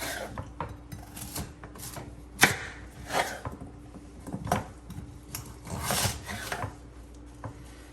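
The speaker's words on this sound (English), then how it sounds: "We're chopping them to make them cook evenly faster." Knife chopping sweet potatoes on a cutting board in a home kitchen, a run of close, irregular thuds and scraping strokes with one sharp louder chop, no voices.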